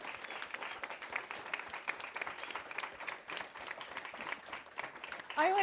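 A small audience claps after a relaxed living-room talk, a steady patter of many hands at moderate volume, with a voice cutting in at the very end.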